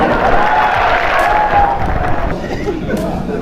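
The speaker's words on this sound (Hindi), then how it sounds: "जोरदार तालियां।" A crowd claps loudly, with chatter and scattered cheers mixed in, and the applause tapers slightly toward the end.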